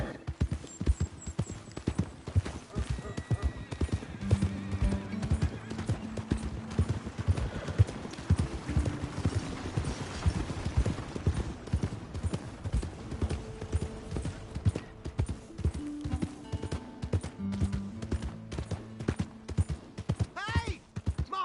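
Steady clip-clop of horse hooves at a trotting rhythm in Red Dead Redemption 2, continuous and fairly close, with some voices and ambient noise mixed in.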